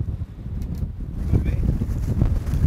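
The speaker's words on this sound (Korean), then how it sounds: "야, 바람 터지기 시작했네 벌써." Strong wind roars steadily over a fishing boat at sea in cold, rainy weather during an offshore bluefin tuna trip, a dense low rumble of wind buffeting the microphone that swells slightly toward the end.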